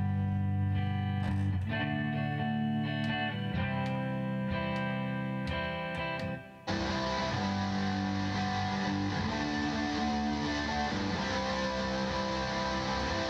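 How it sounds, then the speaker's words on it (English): Distorted electric guitar loop from a Lekato loop station pedal playing steadily and loudly through a distortion unit, its tone shifting abruptly midway to a harsher, fuzzier sound. "the loop sound is being blasted through my distortion unit, which doesn't sound particularly nice"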